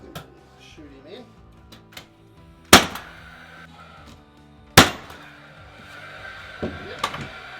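Pneumatic nail gun firing nails into a timber noggin during a bathroom renovation: two loud, sharp bangs a couple of seconds apart plus a softer third, with small knocks and handling sounds between them.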